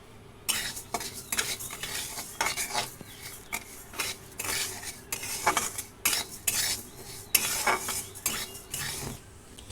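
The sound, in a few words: dry roasting mung dal in a wok, stirring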